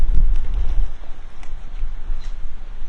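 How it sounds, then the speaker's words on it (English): Wind gusts buffet the microphone outdoors at a city hall rally, a low rumbling roar with a few faint knocks and rustles, no one speaking. "It is windy."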